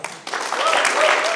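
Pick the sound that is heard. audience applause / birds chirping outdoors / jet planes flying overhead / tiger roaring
audience applause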